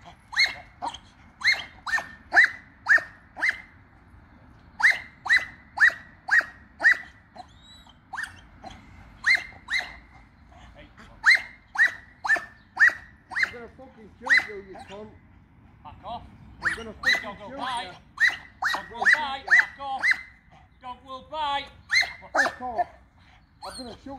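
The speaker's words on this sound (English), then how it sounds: "Back off! The dog will bite!" A dog barks repeatedly in loud, close bursts, some rapid and some spaced, with growls and whimpers mixed in.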